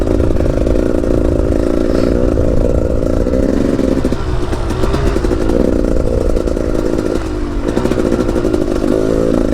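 An enduro motorcycle's engine buzzes loudly and continuously close by, revving up and down as the bike is ridden over off-road ground, with no speech.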